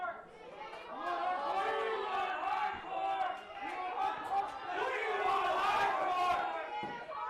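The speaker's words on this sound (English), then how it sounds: "This crowd tonight's bloodthirsty, TRK." Crowd at a live pro wrestling show at a training academy in Pittsburgh, a rowdy mix of shouting and chatter that swells and falls with loud individual yells cutting through, fairly close and continuous throughout.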